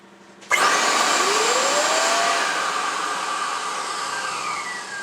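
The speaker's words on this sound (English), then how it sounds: "you can plug your machine back in and turn the switch on" A Diamond Jet 1200 dust containment system switches on with a single motor connected, starting abruptly and then holding a loud, steady, high-pitched motor whine with a rising tone as it spins up, running alone.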